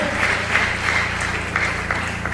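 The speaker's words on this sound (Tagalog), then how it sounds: "Lahat po na nagkakaisa, na parang magkakapatid, ay pumalakpak sa ating pinakamamahal na Panginoon" A church congregation at an anniversary service in Bangar, La Union, keeps up steady applause, a dense patter of many hands over a low hum.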